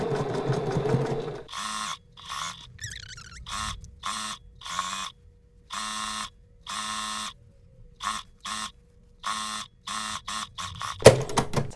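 Sewing machine stitching 3 cm bias tape onto fabric for winter shorts, sewn in short repeated bursts of motor whir separated by brief pauses, close and clear with no talking.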